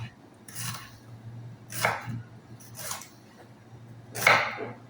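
Vegetables being chopped with a knife for beetroot curry, heard as four separate dull knocks on a board at irregular intervals over a low steady background hum.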